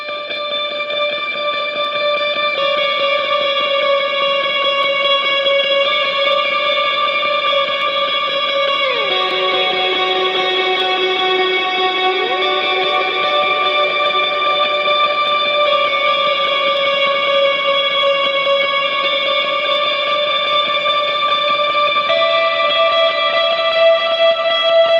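Electric guitar run through effects plays a worship song, with sustained, reverb-washed chords that shift pitch around the middle and ring steadily and loudly, with no talking.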